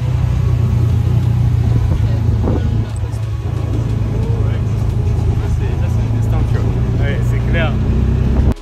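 A quad bike rides on Holbox island, giving a loud, continuous engine drone and rumble heard from up close, with voices over it.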